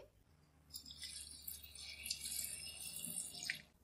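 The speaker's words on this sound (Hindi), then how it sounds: "अब हम इसमें तकरीबन 2 गिलास पानी के ऐड करेंगे।" Water pours into a cooking pot of palak gosht with tomatoes, a soft, continuous splashing stream lasting a few seconds, fairly faint in a quiet kitchen.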